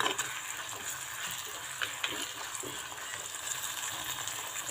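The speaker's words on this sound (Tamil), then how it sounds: "இப்போ இந்த இஞ்சி பூண்டு பேஸ்ட்டை நம்ம நல்லா வந்து கலந்து விட்டுறலாம்." Ginger garlic paste stirred and fried in a pan for a potato masala, giving a faint, steady sizzle with soft occasional stirring scrapes and no talk.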